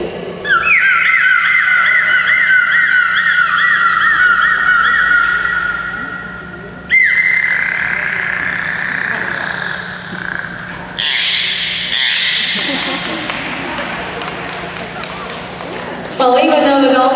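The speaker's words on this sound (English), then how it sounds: "all of those sounds you just heard did come from the dolphin's blowhole located on the top of their head" Dolphins produce whistles, squawks and rapid chirping sounds from their blowholes. The calls come in sweeping, warbling tones, with a burst of broadband crackle and buzzing midway. They are loud and close.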